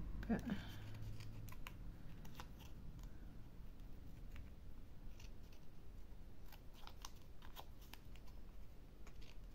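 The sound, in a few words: scissors trimming paper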